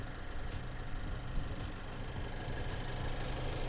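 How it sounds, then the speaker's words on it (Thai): A 2016 Mazda 2 High Connect with 48,000 km on it idles smoothly, giving a steady, even low engine hum with faint vibration and no speech. "เครื่องยนต์ทำงานอยู่นะครับ"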